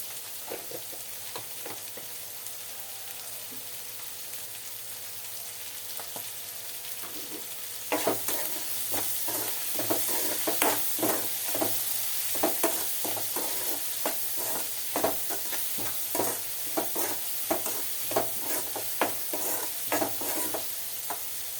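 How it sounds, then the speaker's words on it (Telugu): Onions and dried prawns fry in a pan for a dried prawn and sorrel leaf curry, a soft steady sizzle that grows louder partway through, with repeated sharp scrapes and clicks of stirring close by. "ఉల్లిపాయలు రొయ్యలు కూడా చక్కగా వేగుతున్నాయి"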